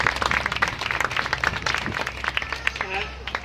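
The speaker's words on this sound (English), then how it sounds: "So let's give Steve a round of applause" Outdoor crowd applause at a playground groundbreaking ceremony, a short burst of scattered clapping mixed with voices and chatter.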